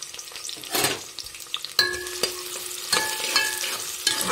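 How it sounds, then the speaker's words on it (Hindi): Onions dropped into a spoonful of hot oil inside a pressure cooker, frying with a steady close sizzle and occasional stirring scrapes, with no talking. "कुकर के अंदर मैंने एक चम्मच ऑयल लिया डाल लिया है और लगभग ये गर्म भी हो चुका है नाज़रीन। तो चलिए बिस्मिल्लाह पढ़ के हम प्याज को ऐड कर लेंगे"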